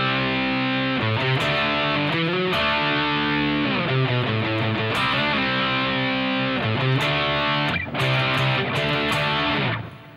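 Loud, dense distorted electric guitar chords strummed in a steady rhythm, with a couple of brief pauses before the riff resumes near the end.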